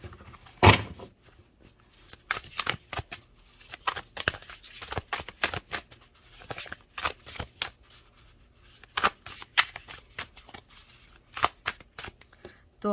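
Tarot cards shuffled by hand at close range: repeated crisp riffling bursts and soft flicks in an irregular rhythm, with occasional quiet talk between them.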